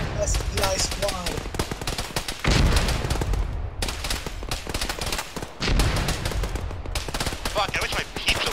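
Dense bursts of automatic and single-shot gunfire crackle through a ShackTac Arma military game battle, loud and close, with voices talking over the shooting.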